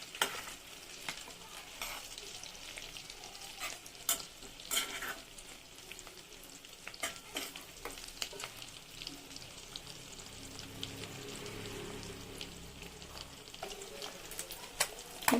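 Eggs fry in hot oil for a spicy egg curry, a soft continuous sizzle broken by scraping taps as a spoon stirs them gently, fairly quiet with no talking.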